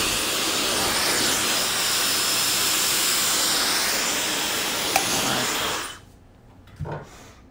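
Hair dryer blowing hair dry in a salon, a loud, close, steady whooshing hiss that suddenly cuts off near the end and leaves a brief quiet with a small thump.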